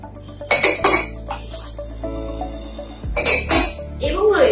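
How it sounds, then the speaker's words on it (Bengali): Spoons from a couple's mug set clinking: several close, bright metallic clinks and taps, some sharp and ringing, with a few scraping handling sounds between them. "এবং রয়েছে খুবই সুন্দর চামচ।"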